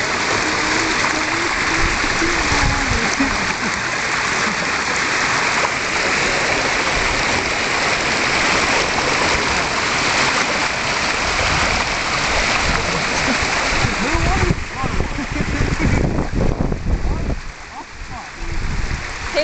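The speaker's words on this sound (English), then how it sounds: "big falls trying to block the waterfall." A waterfall at a swimming hole, partly blocked by rocks being piled against it, roars as a loud, continuous rush of falling water throughout, with voices faintly under it.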